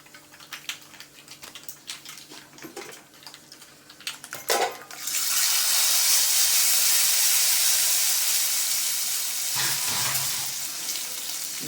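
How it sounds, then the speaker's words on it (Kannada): Tempering with curry leaves poured into cooked bisi bele bath erupts into a loud, close sizzle and hissing steam that holds steady for several seconds after some clattering stirring, with no talking. "ಇವಾಗ ಅದಕ್ಕೆ ಒಗ್ಗರಣೆ ಹಾಕ್ಬೇಕು."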